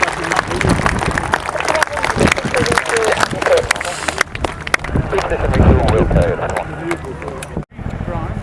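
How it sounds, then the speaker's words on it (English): Outdoor airshow crowd at Cosford clapping after a Chinook helicopter roll demonstration, a broad steady wash of applause with wind and voices mixed in, cutting off abruptly near the end. "please put your hands together for the 2025 Chinook Roll demonstration"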